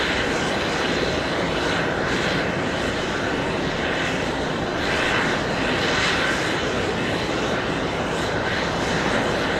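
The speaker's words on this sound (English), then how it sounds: "American 466 heading to Miami, Florida, 737-800" American Airlines Boeing 737-800 jet at JFK, a sustained engine roar that rises and falls in gentle swells, fairly loud and steady with no voices over it.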